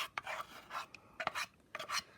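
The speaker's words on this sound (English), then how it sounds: "I'm going to take my spoon and scrape all this out too" A spoon scrapes thick white glue out of a cup in three short, close rasping strokes with brief pauses between them, quiet and alone.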